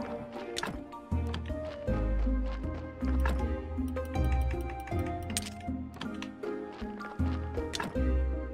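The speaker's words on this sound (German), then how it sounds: "Wasser." Water drips and clinks in the Graveyard Keeper video game, sounding as a string of sharp plinks and knocks over a busy layered game music bed with steady low notes.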